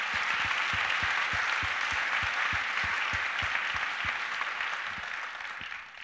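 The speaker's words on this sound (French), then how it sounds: "Vous pouvez applaudir Bruno du coup." An audience at an Adie 30th-anniversary advocacy event applauds steadily for about six seconds, a dense, loud wash of many hands with distinct claps, fading slightly at the end.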